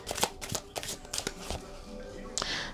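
Tarot cards shuffled during a reading, with several quick riffling bursts spaced through the moment and a soft flick near the end, all close and fairly quiet with no voice over them.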